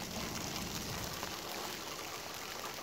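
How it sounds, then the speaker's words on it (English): Rain mixed with sleet and snow falls in a steady, even hiss, fairly faint and constant throughout, with no voices. "it's sleeting and snowing and raining"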